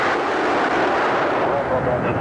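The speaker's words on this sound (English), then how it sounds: "Three main engines up and burning" Space Shuttle main engines burning at launch, a loud, steady, broadband roar that fills the whole moment without a break.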